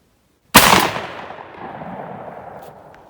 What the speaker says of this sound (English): I'm going to shoot it over top of chronograph.